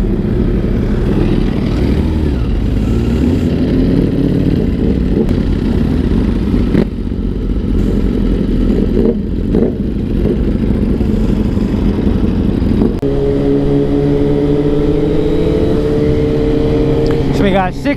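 Motorcycles including a Ducati, a BMW S1000RR and a Kawasaki ZX10R rev and pull away, a loud continuous engine rumble with rising pitch sweeps near the end as the bikes ride off, with people talking over it.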